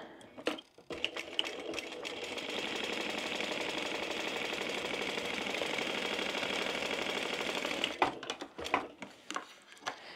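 A sewing machine stitches a fish-shaped zip pouch in one steady, fairly loud continuous run, with a few short starts and stops at either end.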